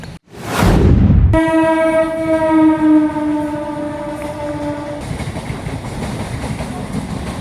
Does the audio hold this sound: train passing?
yes